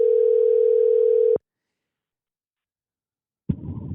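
A telephone rings on an outgoing call with a single steady, loud tone lasting just over a second. Silence follows, then a short burst of noise as the line connects.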